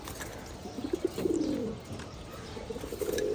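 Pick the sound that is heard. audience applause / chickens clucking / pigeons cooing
pigeons cooing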